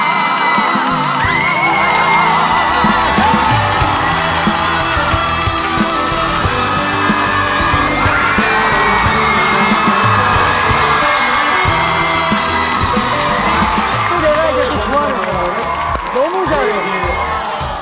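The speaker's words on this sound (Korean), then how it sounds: "박수로 맞아주십시오" A TV singing competition audience claps, cheers and whoops as a trot singer is welcomed to the stage. The crowd noise is loud and continuous, with voices and music mixed in.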